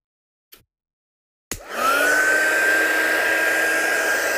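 Heat gun switching on with a sharp click and rising into a steady loud whir while melting gold embossing powder for card making, a single brief tap heard beforehand in near silence.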